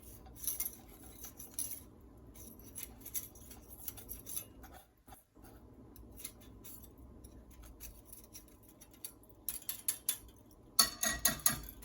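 A metal whisk clinks and scrapes against a pot of salted caramel gelato base on a large stovetop burner, producing quick, uneven tapping and rattling with a brief pause midway and a busier burst near the end.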